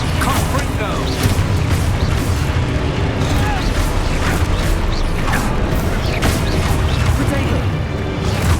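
Blasts of the fire spell Confringo in Hogwarts Legacy, booming cracks within constant loud combat clatter and crashing debris, with a voice calling out spells throughout.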